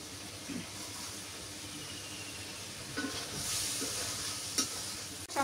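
Fish going into a sizzling pan with tomatoes and potatoes, a steady close frying hiss that swells briefly midway, with a few small clinks and stirring taps.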